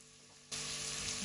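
Diced potato and carrot hit hot oil for lentil soup, and after a moment of near silence a steady, even frying sizzle starts abruptly and holds.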